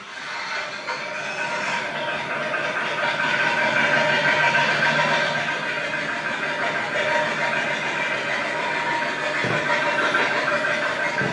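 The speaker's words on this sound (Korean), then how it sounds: "시동이 이제 유지가 안 되고 걸렸다 꺼지는 내용입니다" A rough, chugging diesel engine of a Porter 2 truck that starts then stalls, running unevenly for several seconds, loud and continuous, with a sputtering, labored quality like a farm tiller, struggling to stay running.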